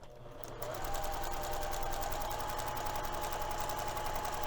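A sewing machine runs at a steady, fast hum and rhythmic whir while top stitching the long edges of fabric for a messenger bag, close and continuous after a brief start.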